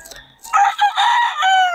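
A chicken clucks and crows up close, a harmonic-rich call rising after a brief quiet start and holding strong to the end.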